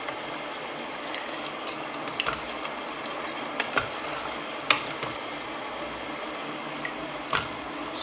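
A spoon stirs chicken rendang stew with tamarind water in a pot, giving a quiet wet churning with scattered light scrapes and clinks against the pot.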